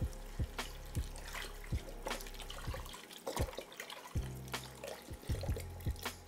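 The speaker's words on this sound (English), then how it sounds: "add in 3 cups of beef broth" Beef broth poured into a pot of braised short ribs, a continuous close liquid splash and trickle with scattered clinks and knocks throughout, no talking.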